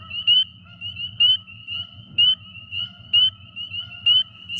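Spring peeper frog calling outdoors, sharp rising peeps repeated about once a second, close and clear over a low background chorus.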